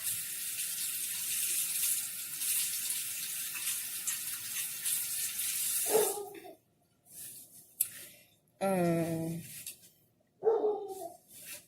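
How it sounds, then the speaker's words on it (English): Running tap water pours steadily into a kitchen sink as hands are washed during dinner prep, a broad hiss that stops abruptly about halfway, followed by short bursts of speech. "Let me go ahead and wash my hands real quick"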